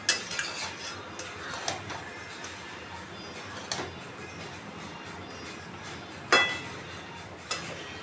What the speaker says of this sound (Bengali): চিনিটা দেবার পরে আমি আবারও মিশিয়ে নিচ্ছি।